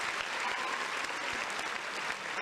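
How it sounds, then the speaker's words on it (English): Steady crowd applause, a dense continuous patter of many hands clapping at moderate volume throughout, with no voices on top. "Applause, applause."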